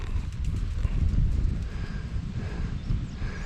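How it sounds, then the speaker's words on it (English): Hooves of a cow horse in English tack clip-clop steadily across a riding arena, a continuous low drumming of footfalls with wind-like broadband noise around it and no talk. "that is Ace, the cow horse"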